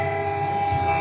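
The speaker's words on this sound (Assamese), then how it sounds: "বল ৰেল আহিছে অসম গৌৰৱ বল ৰেল আহিছে" Assam Gaurav train horn sounding loud and steady in a sustained blast near an animal corridor, with no talk over it.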